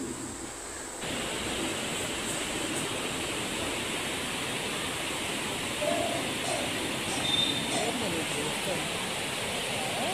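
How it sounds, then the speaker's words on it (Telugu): Fast-flowing water at Jami waterfalls roars as a steady, dense wash of noise, loud and close and unbroken throughout, with a voice faintly present at moments. "చూసారా వాటర్ ఫాల్స్ ఎంత ఫాస్ట్గా ఫ్లో అవుతుందో"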